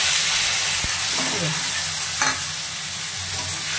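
Fried vegetables being sautéed with a paste of cumin, chilli powder, turmeric and salt for a small puti fish curry, a steady close sizzle with scraping stir strokes and a couple of clinks, no talk.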